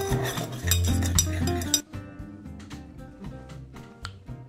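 A teaspoon clinks against a glass while stirring sugar into a lime daiquiri, a run of bright metallic ticks and taps, louder at first and then lighter and more scattered.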